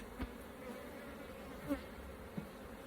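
A soft, continuous buzz of honeybees in an opened hive hums close by, with a few faint thumps and bumps; no voices.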